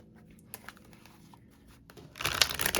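Tarot cards being shuffled: faint scattered card flicks at first, then a louder, rapid riffling burst near the end, close by with no talk.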